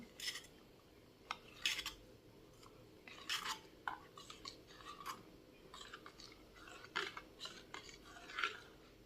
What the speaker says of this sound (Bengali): এখানে হলুদ আর লবণ আছে দিয়ে দিচ্ছি দুটো কাঁচা লঙ্কা দিয়ে দিলাম এটাকে ভালো করে নাড়িয়ে দেবো